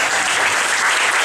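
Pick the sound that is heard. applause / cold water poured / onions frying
applause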